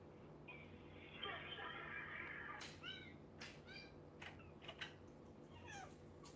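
House cat meowing in a series of short, rising calls, fairly faint against a steady background hum, with a few higher chirpy cries toward the end.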